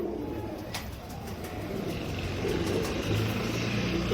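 Royal Teddy pigeons in a breeding loft give low, soft cooing over a steady background rumble, with a few light flutters and clicks close by.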